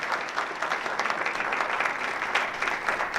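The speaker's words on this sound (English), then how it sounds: "So I'd ask everyone to give them a round of applause" Steady applause from the audience at the opening ceremony of a Pan African development conference, a short burst of dense clapping at moderate distance with no voices over it.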